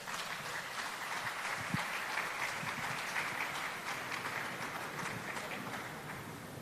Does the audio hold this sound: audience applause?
yes